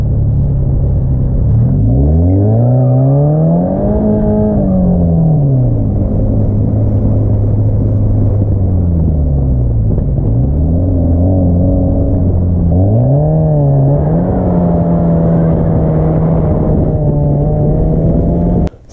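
A Scion FR-S on winter tires drifting on the street, its engine revving up and down in long sweeping pitch swings, loud and close for the whole stretch with no voices.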